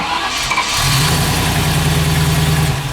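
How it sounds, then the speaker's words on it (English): A car engine cranks and catches, then settles into a loud, steady running rumble close by. "Apparently the engine's in it. And it runs"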